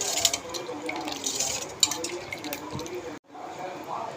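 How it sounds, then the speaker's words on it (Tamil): Boiled milk pours and splashes into a pot and is stirred, a steady liquid trickle with small drips and a brief break, under a voice speaking. "காய்ச்சின பால் அதை ஊற்றி நல்லா கிளறி விட்டுறணும்"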